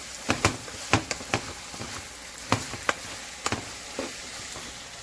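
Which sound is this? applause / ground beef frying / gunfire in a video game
ground beef frying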